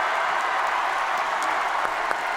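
An audience at an anniversary training ceremony applauds its teachers and trainers with dense, steady clapping that fills the room evenly.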